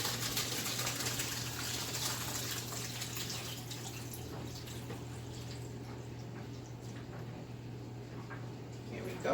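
Water from boiled, cold-rinsed macaroni drains away in a steady, continuous rush, a moderate hiss of pouring liquid that stays even throughout.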